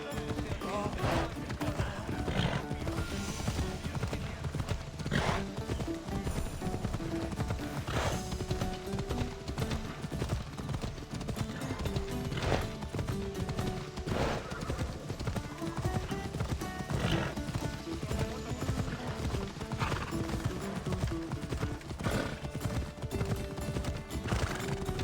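A horse in the Assassin's Creed Odyssey video game gallops with rapid, continuous clip-clop hoofbeats and neighs now and then, under game music and effects while a voice talks.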